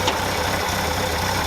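An International Scout 80 engine idles through an old Nissan 240SX muffler, giving a steady, close, even exhaust rumble with a faint rhythmic knock and no speech over it.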